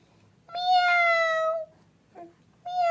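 A cat meows twice close by, a long drawn-out meow followed by a short chirp and the start of another meow, in a quiet room.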